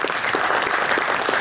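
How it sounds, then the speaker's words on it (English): Brief, dense applause from an audience at a business leadership talk, steady and fairly loud throughout. "So a round of applause for that, Rachel."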